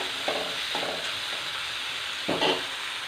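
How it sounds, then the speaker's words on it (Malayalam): Bitter gourd, onion, chili and tomato sautéing in a pan for a Kerala theeyal curry, a constant close sizzle with a few brief scraping stirs of a spoon against the pan, no voices. "ഒരു 2 മിനിറ്റ് ഇതെല്ലാം കൂടി ഒന്നുകൂടി വഴന്നു വരട്ടെ."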